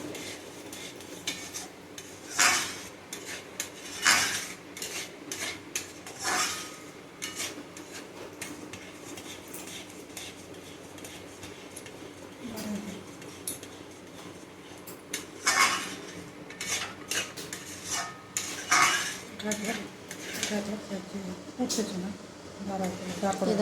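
A spatula stirs raw mango pulp in a pan, making soft intermittent scraping and clinking against the metal, with someone speaking over most of it.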